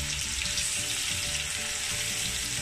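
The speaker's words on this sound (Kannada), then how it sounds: "ತುಪ್ಪ ಬೆಚ್ಚ ಅಂಬತ್ತುಂಡು ಒಂದೇಗಿತ್ತೆ ನೆಲ್ಲಿಕಾಯ್ದ ಪೇಸ್ಟ್ ಪಾಡ್ಗ" Gooseberry (amla) paste frying in hot ghee for a chavanprash-style medicine, giving a steady, dense sizzle that holds evenly throughout with no pauses, close by and alone without any voices.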